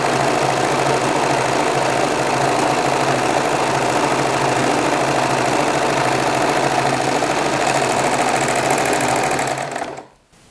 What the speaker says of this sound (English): I'm simply going to place a little fabric scrap underneath the presser foot and start serging.